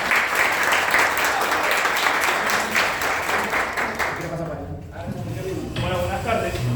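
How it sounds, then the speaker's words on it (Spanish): Loud, close applause from an audience at an academic talk on positivism in Argentine education, a thick clatter of many hands that thins out toward the end as a voice begins speaking. "Le damos un aplauso"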